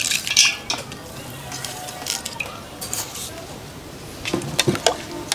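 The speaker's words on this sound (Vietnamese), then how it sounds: "Để vô đi là trộn lên" Sugar being stirred into ice in a bowl for butterfly pea flower milk tea, giving a close run of scraping, clinking and crunching strokes with short bright clicks, steady over the whole stretch.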